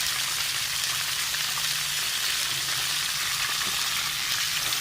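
Onions frying in hot oil, a loud, steady hiss of sizzling that holds without pause from start to finish.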